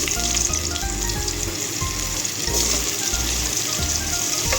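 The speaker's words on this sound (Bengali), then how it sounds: "আলুটাকে আমি একটু ভেজে নেব" Potato pieces fry in hot oil with whole cumin, giving a loud, continuous close-up sizzle that holds steady throughout.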